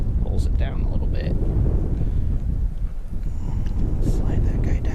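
Steady wind buffets the microphone in a continuous low rumble while crappie fishing at Ada Hayden Lake in Ames, Iowa, loud and close, with faint higher sounds drifting in and out.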